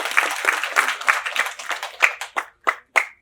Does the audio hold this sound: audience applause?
yes